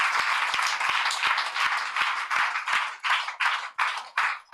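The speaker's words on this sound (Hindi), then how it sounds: "जोर से ताली बजाओ" Worshippers in a church service clap loudly together, a dense burst of applause that settles into rhythmic, evenly spaced group claps, close and strong with no talking over it.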